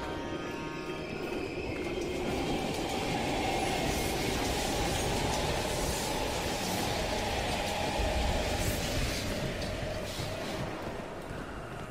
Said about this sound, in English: We can use a train to slip past.